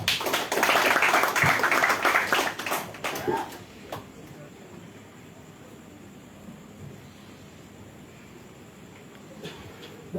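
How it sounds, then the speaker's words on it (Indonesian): An audience at an evening national dialogue event marking Heroes' Day applauds, a dense burst of clapping for about four seconds that thins into scattered claps and room noise. "sekali lagi kita boleh berikan tepuk tangan yang meriah untuk dialog kita pada malam hari ini"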